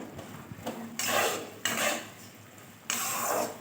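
Boondi sweet mixture is stirred in a pan over a very low flame, three long rasping scrape strokes separated by short pauses, close and moderately loud.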